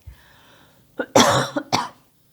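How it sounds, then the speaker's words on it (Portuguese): A single harsh cough, close and loud, preceded by a short catch of breath and followed by a couple of smaller coughing bursts. "Vou tossir."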